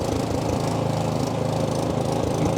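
A Toro SnowMaster 824 QXE snowblower engine runs loud and close with a steady, even putter right after starting, with no talking over it.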